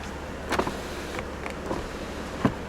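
Power windows on a 2017 Lincoln Continental run faintly, with soft motor whirs and a few brief clunks as the glass stops, over a low, steady background hum.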